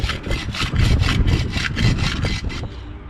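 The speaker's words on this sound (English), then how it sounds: "Just scrape it inside the drum." A tool scrapes build-up from the inside of a drum in about ten rhythmic, evenly spaced strokes, a close rasping scrape over a low engine rumble, ending with a quieter pause.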